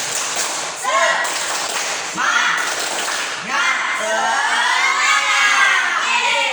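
Children in a classroom activity perform the Indonesian 'tepuk semangat' clapping chant, shouting rhythmic words in unison between bursts of clapping, loud and close, with a lively group of young voices throughout.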